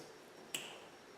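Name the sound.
attempted finger snap with rings clicking together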